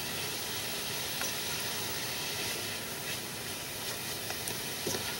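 Onions and celery softening in a pan for chili, giving a faint, steady sizzle and hiss with light crackles and no talking.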